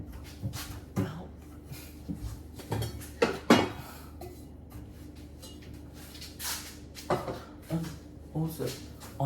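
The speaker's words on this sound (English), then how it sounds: "Let me get my pans." Pans are taken out in a home kitchen while making bao buns, with intermittent clanks, knocks and clatters of cookware and cabinet sounds, fairly close, under ongoing talk.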